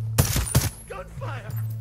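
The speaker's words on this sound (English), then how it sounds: "Gunfire!" Two sharp gunshot bursts ring out in Ghost Recon Breakpoint, close and loud in quick succession, followed by brief talk from a player.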